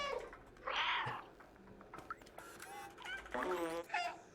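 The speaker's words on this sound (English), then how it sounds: "Here's me meowing away." A cat meows several times in the video game Stray, drawn-out and wavering, with voices talking in between and over some of the calls.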